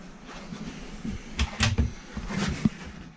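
A few soft wooden knocks and bumps of a motorhome kitchen cupboard door opening and shutting, quiet and close, with faint rustling between them.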